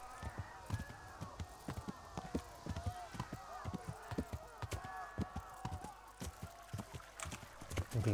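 A horse ridden in the medieval game Kingdom Come: Deliverance, its hooves striking in a steady, rapid clip-clop rhythm under a low ambient bed, with someone talking at times.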